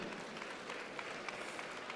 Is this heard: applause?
yes